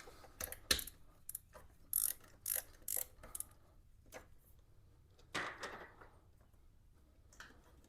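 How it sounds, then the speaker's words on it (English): A ratchet socket wrench clicks in short, quiet bursts while spark plugs are removed from a 2007 Yamaha FJR1300 motorcycle, with pauses between the close ratcheting strokes. "Now I'm going to go ahead and take all of the spark plugs out."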